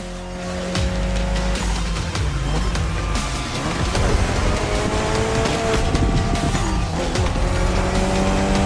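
Mitsubishi Lancer Evolution X racing in The Crew Motorfest video game, its engine droning and shifting pitch through gear changes while tires squeal and skid, loud and continuous over several seconds with no voices.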